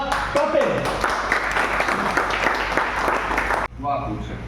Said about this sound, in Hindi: प्लीज वेलकम अपनी जोरदार तालियों के साथ करते हैं।